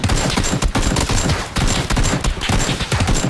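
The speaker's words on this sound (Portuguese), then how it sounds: "Ele tá atirando em mim." Gunfire in the PUBG video game aimed at the player, a dense, loud, continuous fusillade of rapid shots over about three seconds, with no talking.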